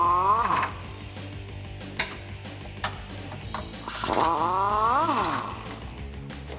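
A powered tool drives an 18mm socket to remove frame bolts during a lift kit install on a 2014-2018 Silverado 1500 or Sierra. It gives two whirring bursts that rise and fall in pitch, close and fairly loud, with scattered metallic knocks between them and no talking.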